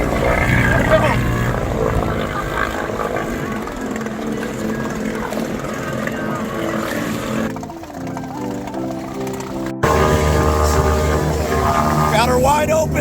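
Two-stroke motor on a homemade tri-toon pontoon party barge running wide open, a loud buzzing drone that changes pitch, with people shouting over it.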